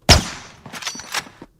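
A gunshot sound effect, one sharp loud crack at the start followed by a few softer echoing bangs and a tail that fades out, heard alone and without voices.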